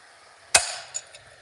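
A single sharp metallic strike of a hammer on a touch mark stamp set against blacksmith-made flat jaw tongs, followed by two fainter ringing taps, close and otherwise quiet.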